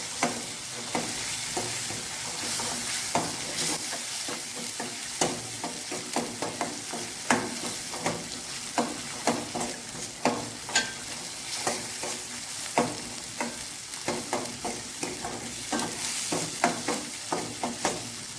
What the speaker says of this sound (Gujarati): તેને પણ આપણે થોડીક વાર તળવા દઈશું